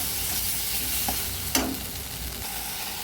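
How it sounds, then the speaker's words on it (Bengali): Steady sizzle of onion, tomato and ginger-cumin paste frying in oil in a pan, with a brief scrape of stirring partway through. "আদা জিরে বাটা দিয়ে ভালো করে নেড়ে নিচ্ছি।"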